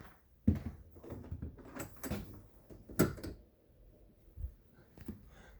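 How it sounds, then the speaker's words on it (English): A pantry door in a home opens and closes, giving several quiet knocks, thumps and a latch click spread over a few seconds in a hushed room. "Okay, so we've got a pantry door."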